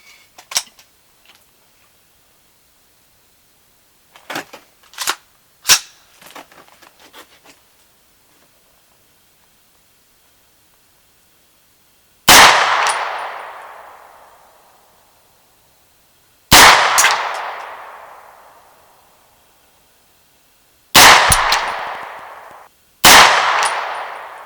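An American Tactical Mil-Sport AR 9mm carbine fires single shots on an outdoor range, four loud sharp reports spaced a few seconds apart, each with a long fading echo, after some quieter clicks and handling knocks.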